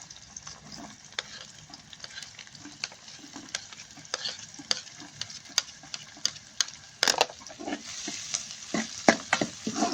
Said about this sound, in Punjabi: ਇਹਨਾਂ ਨੂੰ ਭੁੰਨ ਲੈਣੇ ਆ ਆਪਣੇ ਭੁੱਜ ਗਏ ਨੇ ਚੰਗੀ ਤਰੀਕੇ ਨਾਲ